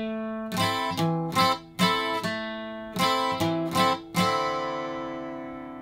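Nylon-string style guitar strummed in a minor seventh chord pattern for a Mexican regional ballad, seven sharp downstrokes in a steady rhythm with ringing sustain, close and alone.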